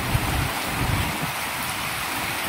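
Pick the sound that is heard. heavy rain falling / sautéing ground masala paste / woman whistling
heavy rain falling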